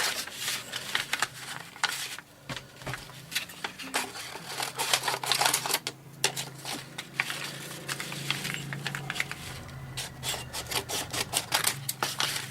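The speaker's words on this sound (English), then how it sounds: "And I'll just cut this in half at the fold." Scissors cutting craft paper pieces for a journal cover, giving a quick series of close, crisp snips and rustles that repeat steadily throughout, with no talking.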